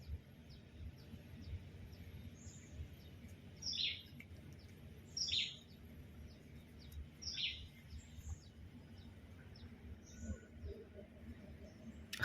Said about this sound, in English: I heard the sound of a parrot just now.